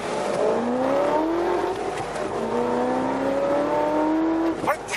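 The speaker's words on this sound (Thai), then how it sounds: "เขาบอกซูเปอร์ชาร์จทำงานเสียงจะเปลี่ยน" A supercharged V8 engine revving hard through a gear, its pitch climbing repeatedly, loud and close with a whining edge and a brief drop near the end.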